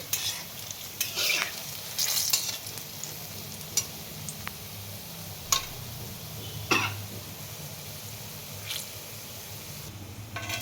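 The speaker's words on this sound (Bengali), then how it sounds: "এইভাবে গোল গোল ফুটবে আর একটু ভাজা হবে" Oil sizzles and bubbles steadily as sweet palm-fruit fritters fry, with occasional sharp crackles and brief stirring noises.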